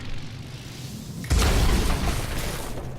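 Symmetra's energy orb smashing a railing on Route 66 in Overwatch, a sudden loud booming shatter that bursts out over faint background hum and fades over a second or so.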